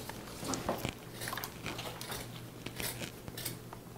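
Scissors cut a jute microgreen growing mat in half with a series of faint, close snips and crunchy fibrous rasps over a low background hum.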